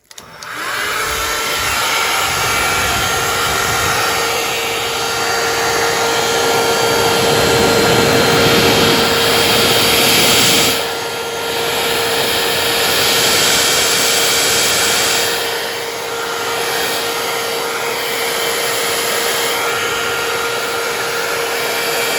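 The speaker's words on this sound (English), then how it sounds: "I think I might use my other blower this time." Steady, loud whoosh of a blower such as a heat gun directed at an acrylic paint pour mixed with pearl pigments and opaque Prussian blue, a constant motor drone with slight swells as it moves.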